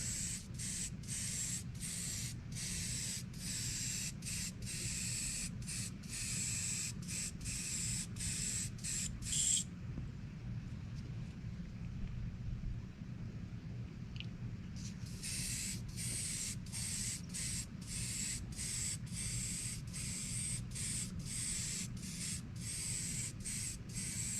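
Aerosol spray paint hisses in repeated short bursts with a few brief pauses, then a longer continuous spray, fairly close and steady.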